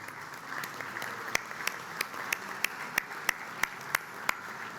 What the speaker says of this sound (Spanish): este aplauso yo quiero dárselo al señor presidente de la República, doctor Luis Lacalle Pou